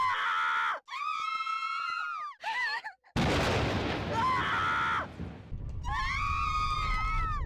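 Loud, shrill screaming from the horror video game Corpse Party comes in several long wailing bursts, broken midway by a harsh noisy crash before the shrieks return.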